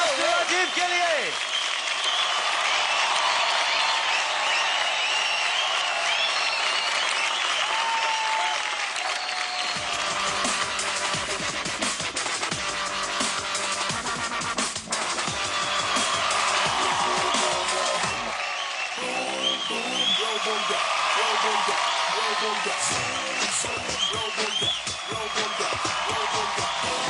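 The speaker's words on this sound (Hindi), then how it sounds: "let's have a big hand" A television dance-competition studio audience claps loudly and cheers, with whoops and shouts riding over sustained applause; at points a voice or music cuts through the crowd noise.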